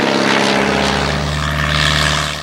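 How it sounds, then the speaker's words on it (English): A Halberstadt D.III First World War German biplane flies past, its propeller engine giving a loud, steady droning roar with a slight rise and fall in pitch that fades a little toward the end. "Next up from the German airfield is a lone Halberstadt d.iii, whose pilot has been ordered to find out what the Allied troops are up to."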